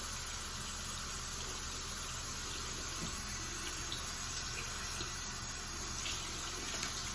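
Water running steadily from a tap into a sink while hands are wetted, a constant close hiss and splash with no speech.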